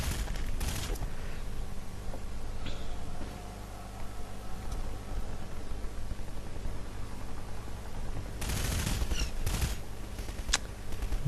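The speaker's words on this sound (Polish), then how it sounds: "No strzelają, strzelają" Gunfire in the first-person shooter Half-Life 2, loud bursts of shots at the start and again near the end, with scattered single cracks and a steady background hiss in between.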